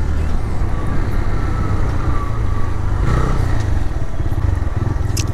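A Hero Honda Super Splendor motorcycle engine runs while riding, a loud, steady low drone with road and wind noise up close throughout.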